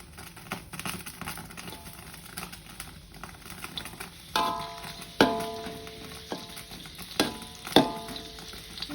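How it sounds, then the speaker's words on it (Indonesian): Sliced shallots frying in a little cooking oil, a faint steady sizzle with occasional sharp clinks of a utensil against the pan, no talking. "kita goreng dulu bawang yang sudah diirisnya"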